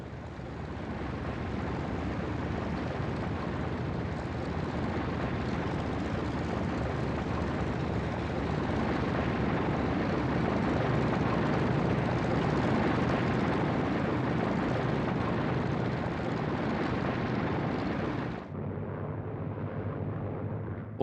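B-29 bomber engines in flight make a dense, continuous roaring drone that holds steady for a long stretch, then drops abruptly to a thinner, quieter hum near the end.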